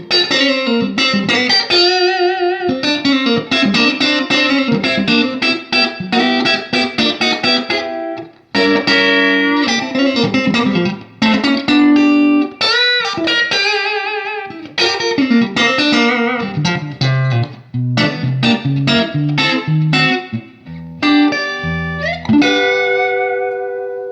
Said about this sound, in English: Okay, the reverb you hear, just a nice little splash from the Keeley